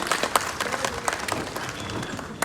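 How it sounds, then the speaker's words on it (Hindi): Audience applause at an award ceremony, a modest round of clapping from a seated crowd at moderate distance, steady and fairly quiet for a couple of seconds with scattered sharper claps. "एक बार जोरदार तालियां"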